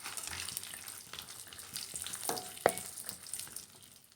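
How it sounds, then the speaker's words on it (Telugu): Cashews and raisins frying in ghee, a soft, close crackling sizzle with a few sharper pops and light stirring, no talk. "ఇందులో జీడిపప్పులు కొంచెం ఫ్రై అయిన తర్వాత కిస్మిస్లు కూడా యాడ్ చేసి రెండు కలిపి ఫ్రై చేసుకోవాలి"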